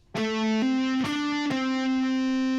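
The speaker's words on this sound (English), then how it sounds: "I'm going to do a hammer on from 9 to 12 on the 4th string" A distorted electric guitar plays a short hammer-on phrase from a song's solo: three quick picked and hammered notes stepping upward, then one note left ringing.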